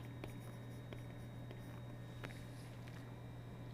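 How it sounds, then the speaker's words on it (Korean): Writing on a board during a church sermon, heard as faint, sparse scratches and taps over a steady low electrical hum, with no one speaking. "제가 한번 써볼게요."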